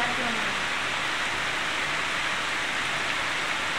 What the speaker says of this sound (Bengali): প্রচুর বৃষ্টি পড়তেছে। কি যে বৃষ্টি!